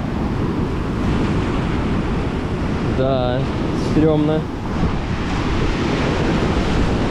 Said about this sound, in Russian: Здесь, кстати, волны бьются об столбы, и брызги-то попадают.